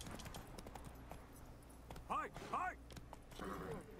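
A horse's hooves clip-clop steadily in The Witcher 3 on Xbox Series S, with quiet rhythmic beats under background game sounds and someone speaking.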